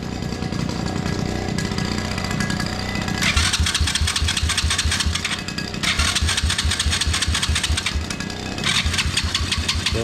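A motorcycle engine cranks and catches, then runs with a rapid throbbing idle that revs in bursts, loud and close, with no talking.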